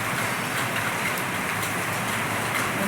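Heavy rain pours down steadily over a flooded street outside a clinic, a dense, unbroken hiss of water that stays loud and even throughout, with no voices.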